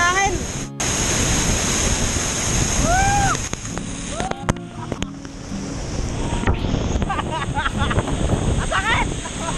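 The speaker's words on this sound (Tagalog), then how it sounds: "Ang lakas ng hangin!" Strong wind roars and buffets the microphone over crashing surf, with voices shouting and whooping intermittently on top.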